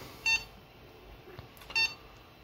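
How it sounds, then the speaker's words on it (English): Hota F6 four-way lipo battery charger emits two short, bright electronic beeps about a second and a half apart, clear over a faint background hum with no talking. "it just beeped to tell me that this battery is done"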